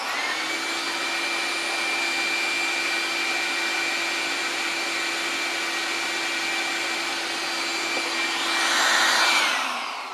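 A shop dust collector vacuum sucks sawdust off a small toolkit, a steady loud whooshing roar with a constant hum that runs throughout, briefly rising in rushing air near the end.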